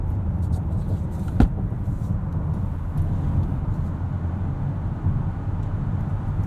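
A 2021 Honda Odyssey Elite minivan with a 10-speed transmission cruises with a steady low engine drone and road rumble heard from inside the cabin, with one brief thump.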